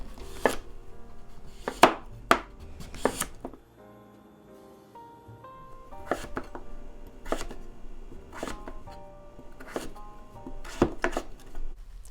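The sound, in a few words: slicing peeled butternut squash with a knife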